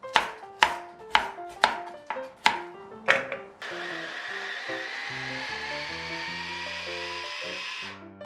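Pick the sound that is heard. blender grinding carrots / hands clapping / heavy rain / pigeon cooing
blender grinding carrots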